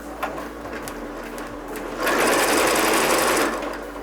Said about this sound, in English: see how it keeps stopping, right? It's because the machine thinks that the thread broke